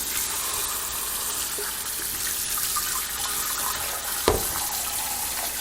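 Kitchen tap running water over beef bones for pho in a sink, a steady close gushing stream with one brief clunk partway through, no talking.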